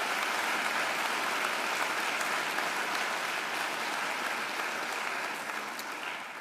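Sustained applause fills a graduation ceremony hall, a broad even wash of many hands clapping at steady volume, tapering slightly near the end with no voices over it.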